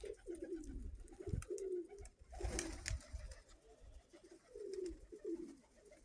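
Domestic pigeons coo softly in repeated low, throaty phrases, with a few wing flaps and light knocks nearby in a quiet loft.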